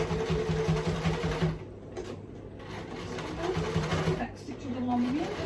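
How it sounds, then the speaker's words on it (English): A sewing machine runs a slow zigzag stitch on a stationery craft project, its motor whirring and chattering close up in bursts that pause briefly and resume, with a person talking over it. "And I'm just doing a zigzag stitch."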